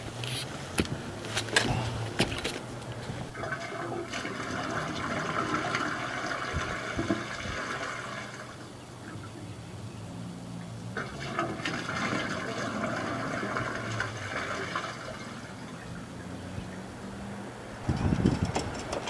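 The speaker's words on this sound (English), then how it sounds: "That's the flushed toilet water." Flushed toilet water rushes through a main lateral sewer line, a steady hollow flow that swells, eases off, then surges again, heard alone.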